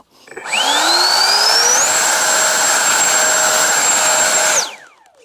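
A model jet plane's small turbine spools up during a thrust test with a rising whine, holds a loud, steady high-pitched roar for several seconds, then winds down abruptly.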